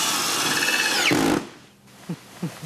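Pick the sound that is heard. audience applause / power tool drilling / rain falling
power tool drilling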